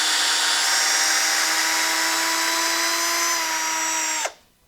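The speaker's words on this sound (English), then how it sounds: "we've got our drill, and we've got our reamer here" An electric drill spins a reamer to ream out a tip, a loud steady high whine held at constant pitch for about four seconds, then cut off abruptly as it winds down to silence.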